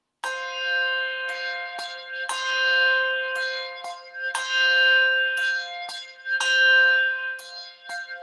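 Two handbells ring alternately in a steady pattern, each strike bright and sustained, leaving long overlapping tones that decay between strokes.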